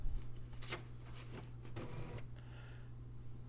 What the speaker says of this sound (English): So here's my printer.